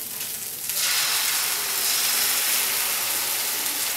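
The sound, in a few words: cooked potatoes and eggs frying in a pan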